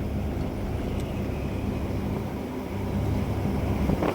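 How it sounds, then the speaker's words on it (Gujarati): Continuous wind rushing and buffeting against the microphone, a steady low roar throughout with no voices. "પવન લાગે ફૂલ અહીંયા"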